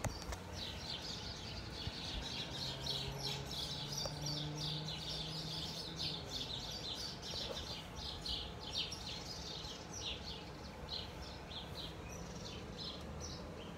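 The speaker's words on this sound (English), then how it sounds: "There's like two, three, four birds." Several birds chirp outdoors, quick repeated tweets scattered across the whole stretch, faint and somewhat distant over a soft background hiss, with no one talking.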